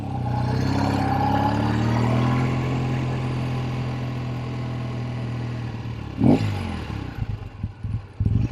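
A 1964 Triumph Bonneville T120 with electronic ignition runs steadily at a close, loud, even idle, then blips its throttle and clatters in uneven bursts near the end.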